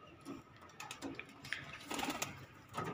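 Domestic pigeons of a local breed heard nearby, with low soft cooing and rustling mixed with faint clicking and fluttering, quiet and close.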